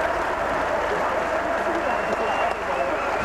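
Fans applauding Reading FC's 1993/94 Division Two champions in pouring rain: steady, distant crowd clapping mixed with constant rain hiss, with no clear break.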